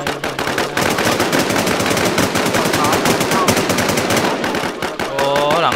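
Loud, continuous automatic gunfire in an online survival shooter, rapid bursts firing almost without pause at close range, with faint voices underneath.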